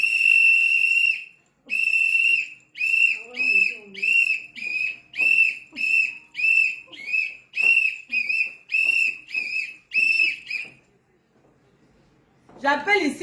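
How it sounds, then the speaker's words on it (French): A shrill whistle blown in a long blast, then a steady series of short sharp toots in rhythm, loud and close, with faint voices behind. "Quand je sors le sifflet"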